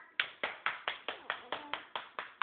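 A child's hands clap about ten times in a quick, steady rhythm, each clap sharp and close, with no talking in between.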